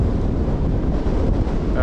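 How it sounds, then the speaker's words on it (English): Strong wind gusting across an exposed mountain path, buffeting the microphone with a loud, continuous low rumble and roar throughout, no talk. "A bit windy here"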